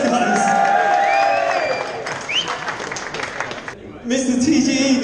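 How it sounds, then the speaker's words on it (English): A crowd at a modified-car rally event gives a round of applause and cheers, clapping and whoops swelling then fading, with talk between bursts before clapping rises again near the end. "Give them a round of applause, guys."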